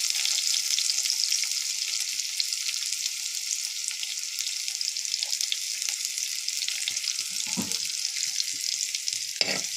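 Garlic and shallots fry in hot oil in a pan, a steady bright hiss of sizzling throughout, with a few soft clatters of stirring near the end.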